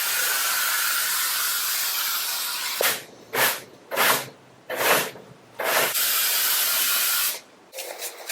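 Spray adhesive made for foam hisses from a can onto a van headliner in five or six short close bursts, each a couple of seconds long, after a long steady hiss at the start and with more brief sprays at the end.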